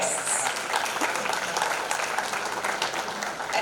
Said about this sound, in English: A big round of applause for all our guests.